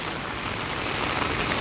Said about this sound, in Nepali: खोला पुरा बोरेछ